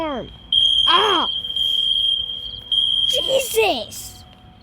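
Steady electronic alarm tone sounding continuously inside a video game about getting a late-night snack, loud and unbroken throughout, with voices and exclamations breaking in over it.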